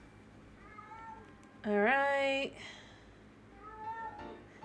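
A cat meows loudly once with a long drawn-out call up close, while someone talks quietly before and after over game sounds from The Legend of Zelda: Breath of the Wild.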